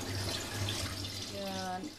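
Water runs and drains steadily from a container of soaked, washed crabs in a home kitchen, a continuous splashing trickle, with faint tonal hums in the background.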